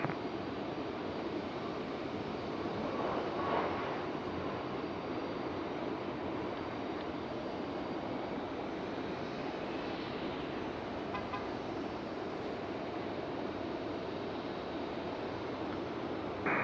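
An airplane landing on runway 32 at Raleigh-Durham airport, a continuous broad engine roar heard from a distance, holding steady for the whole stretch with a faint tone sweeping through midway.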